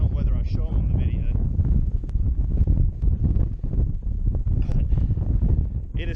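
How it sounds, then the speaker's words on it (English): Steady low rumbling wind buffeting a microphone at Jockey's Ridge, loud and continuous throughout, with a voice talking faintly underneath. "But it is still windy."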